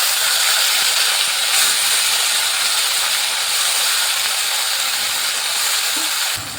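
Cauliflower stalks and frying potatoes sizzle in a pan, a loud, continuous hissing fry that carries evenly throughout and then drops slightly at the very end.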